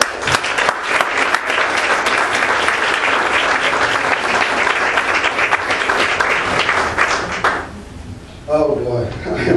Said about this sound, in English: Please give a great round of applause for Armstrong Williams.